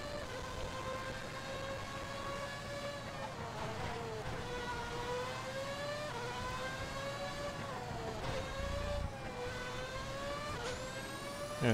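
Formula 1 car engine from the Wii racing game F1 2009, a continuous high-pitched whine rising and falling in pitch as the car accelerates, with brief shifts and a sharp rise at the end, loud and steady throughout.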